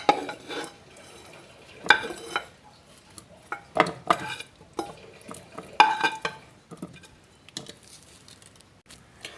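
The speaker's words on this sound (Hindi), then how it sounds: "चिकन डालते हैं।" Chicken for shami kabab goes into a hot pan, and a spoon stirs and scrapes against the metal in sharp clattering bursts over a low sizzle, loud and close with pauses between strokes.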